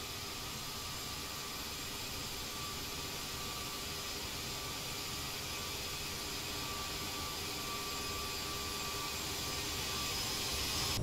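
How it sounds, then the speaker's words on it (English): An Aerosoft CRJ-700 jet taxis to the runway in Microsoft Flight Simulator 2020. Its engines give a steady, quiet broadband whine and hiss that grows slightly louder, with no talk. "Here we go, taxiing out onto the runway."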